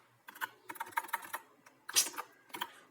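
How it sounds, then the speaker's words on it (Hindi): Fast typing on a computer keyboard, irregular bursts of crisp key clicks with brief pauses, close and moderately quiet. "हिंदी में टाइपिंग हो रहा है यार"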